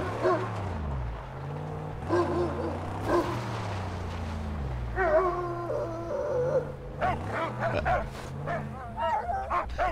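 A dog in the Mad Max video game whimpers and howls in repeated rising and falling cries over a low engine drone, fairly close and prominent throughout.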